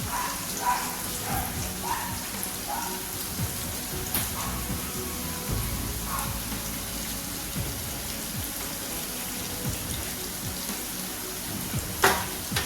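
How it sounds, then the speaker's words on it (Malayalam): Sweet potato snack pieces sizzle steadily in hot oil, a dense continuous frying hiss with faint pops and occasional louder crackles, heard close up and alone without voices. "ഒരു സൈഡ് ഫ്രൈ ആയതിനു ശേഷം നമുക്കൊന്ന് തിരിച്ചിട്ട് കൊടുക്കാം"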